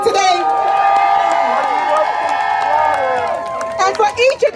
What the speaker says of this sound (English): can we give a round of applause again for our freedom fighters